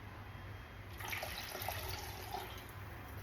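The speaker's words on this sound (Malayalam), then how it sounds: "നമുക്ക് ഇച്ചിരി കൂടെ വെള്ളമൊക്കെ ഒഴിച്ചേക്കാം" Water splashes as it is poured into a curry cooking in a pot, starting about a second in and running as a soft, steady gush at close range with no talk.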